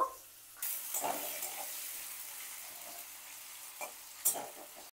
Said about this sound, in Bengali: আলুটাকে প্রথমে আমি ভাজবো, তো একটু লবণ দিয়ে দেব।